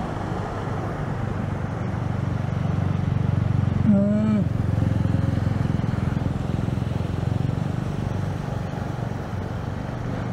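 A motorcycle rumbles through deep flood water on a flooded street, a low steady engine drone with a short tonal chirp partway through and no talk over it.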